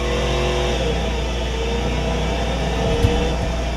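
A car engine in the BeamNG.drive racing game revving and droning steadily during a drag race, loud and continuous with a slight rise near the end, no speech.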